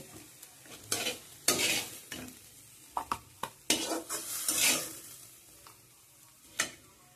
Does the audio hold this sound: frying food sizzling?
yes